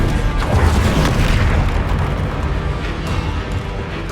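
Confringo explosive spell blast in Hogwarts Legacy, a loud deep booming burst with a heavy rumbling tail that rolls on and slowly fades, with faint crackles scattered through it.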